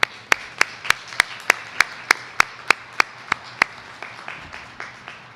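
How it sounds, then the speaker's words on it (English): A small, sparse crowd claps at a university graduation ceremony. About twenty steady, evenly spaced hand claps ring out clearly in a reverberant hall, softening toward the end. "a round of applause for these servants of our university"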